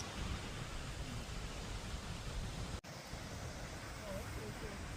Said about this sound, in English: Look at this waterfall just coming down like that.